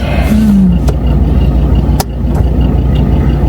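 Ford Ranger pickup truck engine pulling away and accelerating, a steady close rumble with a brief rising note early and a short knock partway through, no talk.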